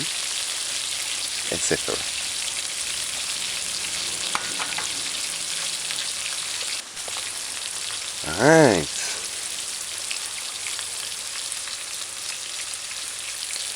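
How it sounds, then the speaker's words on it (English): Chicken and onions frying in a pan, a steady close sizzle running throughout, with brief stirring scrapes and a short voice speaking over it. "it's been frying for 8 minutes and the onions 2 minutes"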